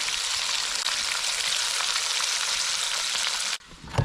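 Vegetable oil frying in a large kazan for Uzbek plov gives a dense, even sizzling hiss that holds steady, then drops off abruptly near the end into faint low handling sounds.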